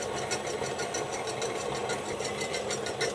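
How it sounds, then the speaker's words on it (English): An electric stand mixer creams butter with powdered sugar, giving a steady close motor whir with a fast rhythmic beating pulse throughout and no talking. "Now just cream your butter in your mixer."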